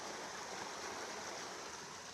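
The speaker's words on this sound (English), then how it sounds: "Guys, look at the falls here." A waterfall on a trip near Gokarna pours with a steady, dense rushing roar, continuous and fairly loud, with no talk over it.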